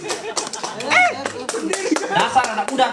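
Scattered audience clapping at an open-mic stand-up comedy show in an Indonesian cafe, mixed with chuckles and someone talking over it.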